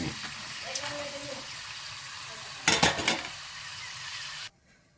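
Homemade fried snacks puffing up in well-heated oil give a steady, close crackling sizzle, broken by a brief louder burst of bubbling or stirring midway before cutting off abruptly.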